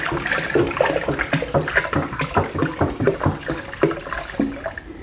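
Water pours and splashes steadily into a container, a continuous close gushing sound with gurgling pulses throughout.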